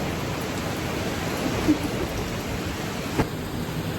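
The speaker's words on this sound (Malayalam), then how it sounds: "മഴ പെയ്യുന്നു ഗൈസ്" Steady rain falls outdoors on a Sunday outing, a dense even hiss throughout with a couple of faint brief knocks and no voices.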